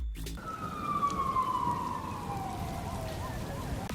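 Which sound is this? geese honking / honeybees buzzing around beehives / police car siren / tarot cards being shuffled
police car siren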